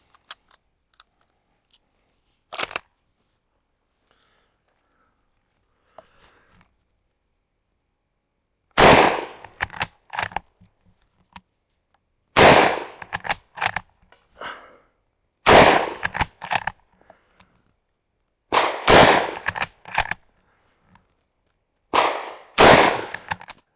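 Gunfire from a Mauser-Vergueiro 1904/39 rifle: a single sharp crack, then several loud shots in spaced bursts with short echoing tails, separated by silence.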